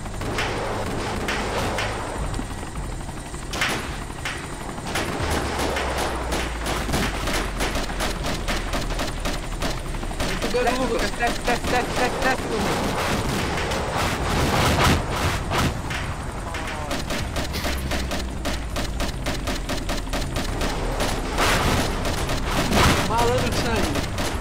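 Gunfire in the military shooter game Arma 2 during a Ukrainian counterattack on Mariupol scenario: dense bursts of rifle and machine-gun shots crackling continuously, with players talking over the firefight.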